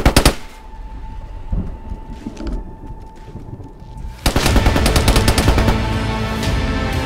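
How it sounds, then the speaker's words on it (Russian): Gunfire in the video game DayZ: a few loud shots open, a quieter stretch with scattered pops follows, then a sudden dense burst of rapid, loud automatic fire keeps going to the end. "По мне постреляли. Сверху стреляют, сверху прям."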